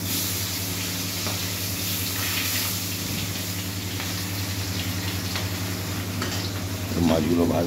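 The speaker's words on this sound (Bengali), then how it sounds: "মাছগুলো ভাজতে একটু টাইম লাগবে সব।" Fish frying in a pan, giving a dense, continuous sizzle with a steady hum beneath and faint clinks, louder briefly near the end; no one speaks.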